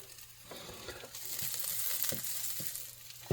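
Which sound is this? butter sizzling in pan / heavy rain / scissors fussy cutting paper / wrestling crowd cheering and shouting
butter sizzling in pan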